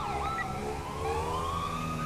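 A police car siren wails with rising and falling tones during a pursuit, several overlapping sweeps sounding fairly close over a low rumble.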